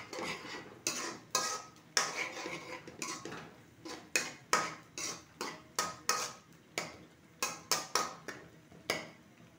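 A spatula scrapes and clinks rhythmically against a pan as spices are stir-fried for a chicken and flat bean curry, repeated close strokes at a steady pace with no talk.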